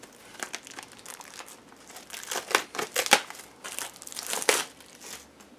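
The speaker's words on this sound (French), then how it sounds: "du coup je vais déballer." A Club Dorothée collector package is unwrapped close by, crackling and crinkling plastic and paper in irregular bursts that grow louder toward the middle.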